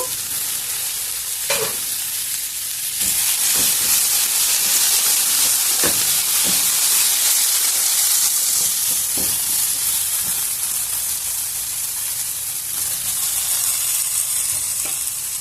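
Potato pieces fry in a pan for an Indian-style aloo fry, giving a steady loud sizzle with occasional scraping stirs and clinks of the spatula; no one speaks.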